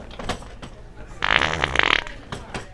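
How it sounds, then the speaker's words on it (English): A short, wet fart squelches out in the middle of a casual conversation, sounding close and fairly loud, with people talking before and after it. "I think you just farted."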